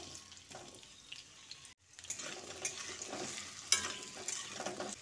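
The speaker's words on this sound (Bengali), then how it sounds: "এবার তেলটা ভালোভাবে গরম হয়ে গেলে এর মধ্যে দুটো মিডিয়াম সাইজের আলু চৌকো করে কেটে" Two medium potatoes, cut into cubes, fry in hot oil in a pan, making a busy crackling sizzle broken by stirring scrapes and clinks, with a brief lull before the frying noise swells again.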